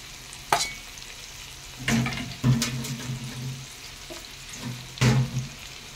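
Rita fish cooks in mustard oil in a pan, with intermittent short sizzles and soft scraping stirs every second or so, close up and fairly quiet, with no voices.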